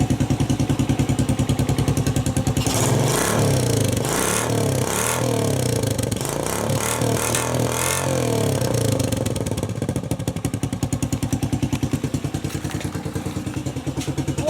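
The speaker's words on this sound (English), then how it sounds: "We'll start it up and have a look. That sounds pretty cool, just as it is. It's got a real pop to it. Just give that a bit of a rev." A Mad Max-style postie motorbike with a cut-down exhaust runs with a popping, thumping idle, then revs up several times in quick bursts before settling back, loud and close with no talking.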